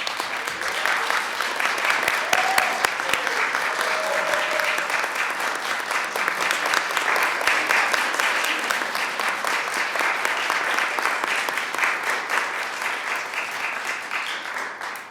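A room full of people applauds steadily, a dense sustained clapping that holds for the whole stretch and eases slightly at the end.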